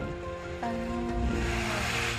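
An ocean drum imitating waves: a steady, rushing wash of noise like surf rolling onto a beach, swelling slightly midway, with a faint tonal hum underneath.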